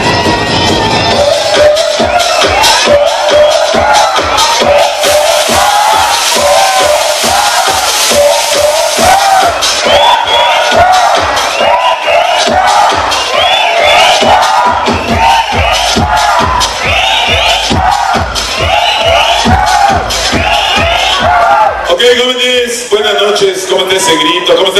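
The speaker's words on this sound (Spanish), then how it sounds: "Ese grito, ¿cómo está ese escándalo?" A dense crowd at a sonidero dance party in San Mateo Otzacatipan roars, whoops and shouts continuously, loud and close, with voices overlapping throughout and a brief shift in the final seconds.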